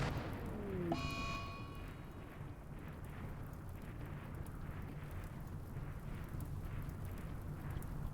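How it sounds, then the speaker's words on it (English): A large explosion in the video game Rimworld, an onset with a descending whistle and ringing tones around one second, followed by a long low rumbling roar that fills the rest of the clip at moderate level. "Now that's what I call a real explosion."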